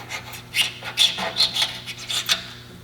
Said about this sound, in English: I'm going to take my scribe here and I'm going to scribe where I'm going to grind